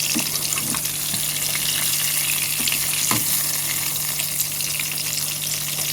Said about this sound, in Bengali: এই যে বেগুন ভাজা বসিয়েছি ছোটো কড়াইটার মধ্যে বসিয়েছি